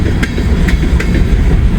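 L425 freight train passing close by on the Indy sub line at Connersville, with a loud, heavy rumble and rhythmic clickety-clack of the wheels over the rail joints.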